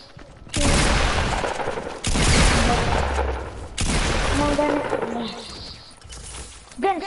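Hand cannon fire erupts in a Fortnite match as loud, sustained bursts of rapid shots and impacts in three long volleys, with game effects layered over them and a player's voice faintly underneath.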